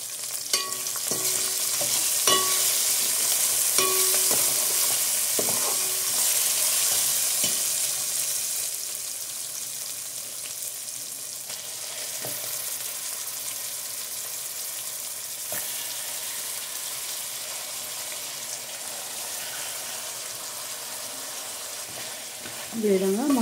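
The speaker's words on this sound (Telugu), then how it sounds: "ఇది కూడా ఆనియన్ కూడా ఫ్రై అవుతుంది కదా" Chicken pieces and onion sizzle steadily in a pan for chicken donne biryani, with repeated scraping stirs and occasional utensil knocks close by, the frying loud at first and easing slightly later.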